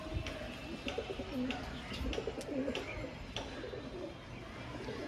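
Homer pigeons coo in soft, repeated low murmurs, close and continuous against light background noise, with no one speaking over them.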